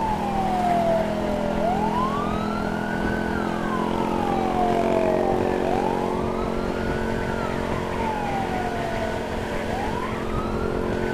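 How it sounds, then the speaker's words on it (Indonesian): Siren of an escorted L300 ambulance unit on the road from Muara Dua to RSMH hospital in Palembang, a loud wailing tone rising and falling in long slow sweeps, heard steadily throughout over the hum of traffic and engine. "Dan ini dia ambulannya unit L300."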